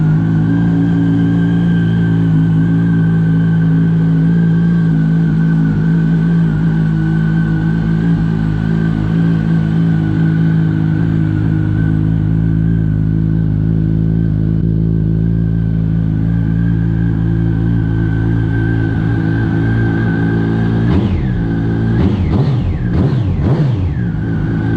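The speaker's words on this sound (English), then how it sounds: "I gotta say the Micron exhaust is probably a nice, real mellow, kind of a deep tone" A 2004 Yamaha R1 sport bike with a Micron exhaust idling steadily, a loud, close, mellow and deep engine drone that runs evenly throughout, then blips the throttle in a few quick revs near the end.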